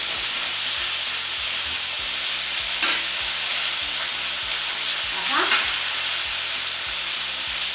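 Lamb chops deep frying in hot oil, a loud dense steady sizzle and bubbling hiss with faint repeated low knocks, continuous and close, no voices.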